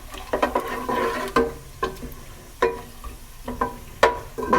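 Whole spices, cumin seeds, cloves and black pepper, sizzle in hot oil with repeated crackling pops and stirring scrapes in an irregular rhythm, close and fairly loud.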